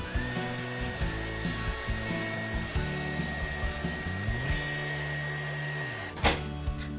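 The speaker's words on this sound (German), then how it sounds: "Jetzt föhne ich das kurz an." A hair dryer runs steadily to dry fresh paint on a painted bird picture, a close continuous whine and whoosh with small shifts in pitch as it moves, then a clunk as it stops.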